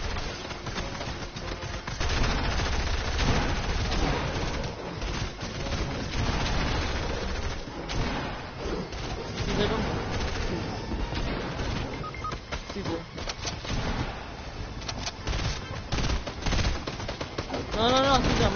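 Rapid bursts of automatic gunfire and shots crackle through a Fortnite match, dense and continuous over about eighteen seconds with faint game noise around them.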